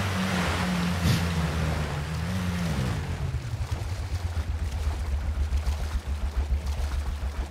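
A boat in PlayerUnknown's Battlegrounds heads into the ocean: a low engine drone with a pitch bend early on, then choppy splashing water and wave noise pulsing over a steady low hum, no talk.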